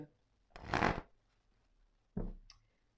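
A deck of tarot cards being cut by hand, heard as two short, close riffling shuffles separated by a pause, with a faint click at the end in an otherwise quiet room.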